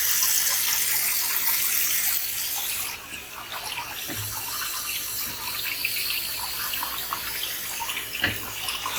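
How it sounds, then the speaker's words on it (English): Cold water runs and splashes steadily over fresh chhena cheese being gently squeezed by hand while making Odisha's chhena poda dessert, a continuous close tap-like gush with a brief dip partway through. "keep putting cold water in regular interval, and then just try to gently squeeze it, and then put extra water"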